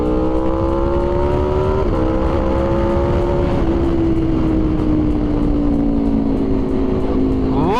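Aprilia RSV4 V4 motorcycle fitted with a Leo Vince exhaust, revving hard and close, its pitch climbing in stepped surges then easing into a sustained high, raspy howl, loud throughout with no voices.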